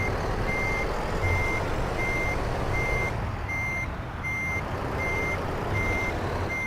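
A truck in American Truck Simulator backs into a parking spot, its reversing alarm beeping in a steady, evenly spaced pattern over a loud, continuous low engine rumble.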